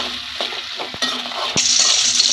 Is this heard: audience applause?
no